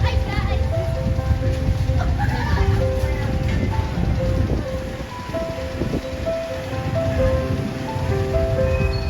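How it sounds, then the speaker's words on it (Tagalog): Heavy rain pours down in a dense, steady hiss, with children's voices and scattered talk rising over the downpour. "bumuhos na ang malakas na ulan"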